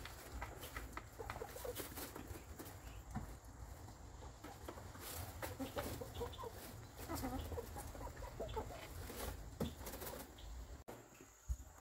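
Chickens and a rooster cluck and call near a grass nest box while wings flap in short bursts, with steady clucking all the way through and a few sharper sounds near the end.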